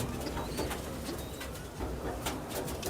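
Faint, low cooing from a pair of pigeons with eggs and chicks in a loft, a steady soft murmur under broadband background noise.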